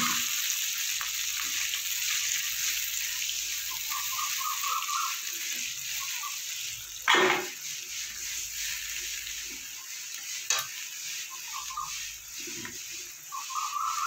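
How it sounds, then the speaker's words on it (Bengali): A little water poured into a pan of ground cumin, coriander and radhuni spice paste, giving a soft continuous sizzle and bubbling with a few sharper splashes and clinks of a utensil, with no voices. "সামান্য একটু জল দিয়ে দেবো।"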